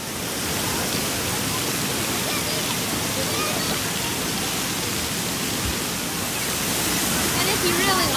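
Steady loud rush of splashing, pouring water at the Legoland water park, a continuous wash with a perpetual splash and bucket spill nearby, close and unbroken for the whole stretch.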